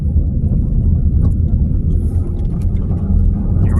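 A car on a Wisconsin interstate during a summer storm chase gives a steady, loud, low road rumble with constant tire and engine noise heard from inside the cabin, with no talking.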